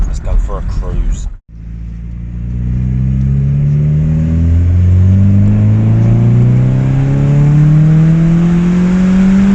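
VW Golf GTI 16v with a new exhaust accelerates hard from inside the cabin, a loud rising engine drone climbing through the gears with a deep exhaust rasp, after a brief cut at the start.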